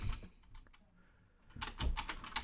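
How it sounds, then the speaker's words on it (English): Someone types on a computer keyboard in a text file: soft, close key clicks, sparse at first, then a quick burst of dense tapping. "in this text file I'm going to type something."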